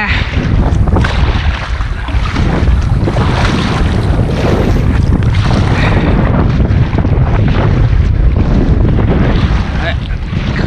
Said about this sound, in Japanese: あれ、風強いな。